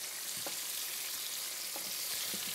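Steady, faint sizzling of Bengali-style fish frying in a pan, a constant hiss with a few soft clicks and scrapes.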